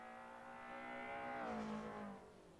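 A BMW race car climbing a mountain hill-climb course at La Granja, its engine holding a steady harmonic drone that rises in pitch and swells louder around mid-pass before easing slightly, heard fairly close with no voices.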